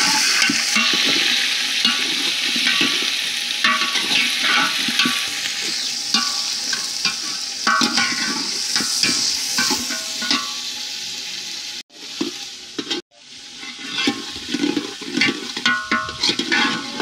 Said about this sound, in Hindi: अब डालेंगे हम लोग इसमें चिकन